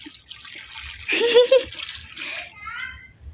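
Tap water gushes into a container for a couple of seconds, fading away as it tails off, while voices talk nearby.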